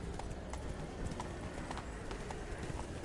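Horse hooves galloping in The Witcher 3: Wild Hunt, a fast continuous clip-clop rhythm that is close and loud, alone without talk.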